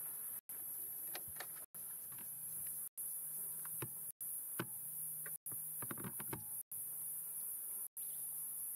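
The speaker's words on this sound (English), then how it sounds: "Listen to all these cicadas." A loud, dense chorus of cicadas on a dusk safari drone steadily and high-pitched, with scattered insect clicks and buzzes and a few brief dropouts.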